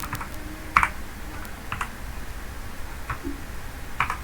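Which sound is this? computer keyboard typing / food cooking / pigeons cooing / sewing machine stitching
computer keyboard typing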